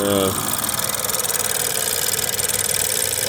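A 2016 Ford Fusion engine runs on fuel injection cleaner with the fuel pump disconnected, holding a steady, close, rhythmic idle with a slight knocking pulse after a brief higher tone at the start.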